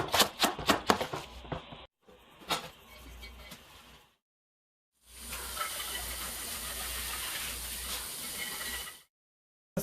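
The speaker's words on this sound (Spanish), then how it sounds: "vamos a empezar ya poniendo las papas a hervir para que se cosan" Potatoes boiling in a pot of water for potato tacos, heard as a steady steamy hiss and bubbling that runs for several seconds after some brief kitchen clatter and taps.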